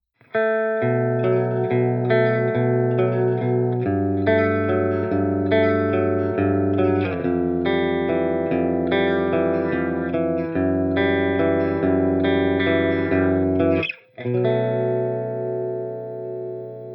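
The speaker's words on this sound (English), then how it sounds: "starting on the neck pickup, and here we get a beautiful glassy distortion tone" A 1960 Gibson Melody Maker guitar on its neck pickup plays a steady run of chords and single notes through glassy, low-gain distortion with light reverb. A brief cutoff falls near the end before the playing resumes.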